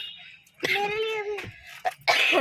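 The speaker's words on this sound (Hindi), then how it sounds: "मोला ना खांसी बहुत ज़्यादा तेज है" A person coughs a few times in short, harsh bursts up close, with a strained vocal sound between them.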